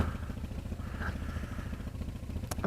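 A warmed-up carbureted motorcycle engine idles steadily and close by, a low pulsing rumble with a faint clatter throughout and a brief sharper noise near the end.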